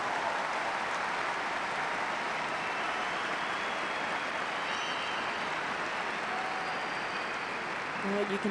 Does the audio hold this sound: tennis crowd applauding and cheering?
yes